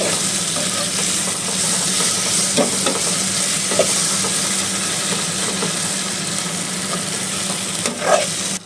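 Loud, constant sizzling of potatoes frying in a pan, with occasional scraping stirs and a faint hum beneath.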